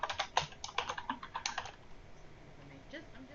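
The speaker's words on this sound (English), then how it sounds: "So if I start typing my information" Quick, uneven keystrokes on a computer keyboard while entering records into a Word 2013 mail merge table, a burst of close clicking that thins out into quieter room tone.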